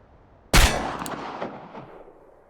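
A single loud gunshot from a pistol at a shooting-range target in the Chernobylite video game, a sharp sudden crack followed by a decaying echoing tail with a faint metallic ping, no talk.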